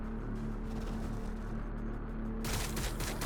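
Gunfire in the strategy game Battlesector, a steady rattling fusillade that grows sharper and louder in the last second, with no talk.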